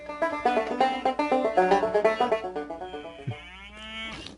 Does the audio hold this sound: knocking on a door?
no